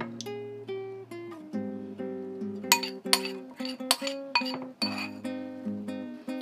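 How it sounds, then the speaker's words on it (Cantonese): A spoon stirs a layered jelly candy mixture in its container before it is poured, giving a string of repeated bright metallic clinks and ringing taps at an uneven rhythm, close by and without speech. "攪下佢先嚇，攪勻咗咁啊倒落去"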